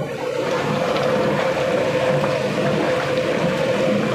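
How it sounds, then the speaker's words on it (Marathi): Hot water poured into a sizzling mutton tempering cooked over a village wood-fired stove, giving a steady, loud hiss and bubbling rush that holds evenly throughout without pause. "आता हे जे गरम पाणी केलेलं होतं ते आपल्याला मटणामध्ये टाकायचं आहे"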